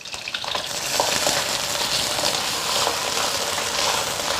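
Crucian carp frying in a hot pan with oil, a steady loud sizzle and crackle running throughout as the fish is gently flipped, with faint spatula scrapes and no talking.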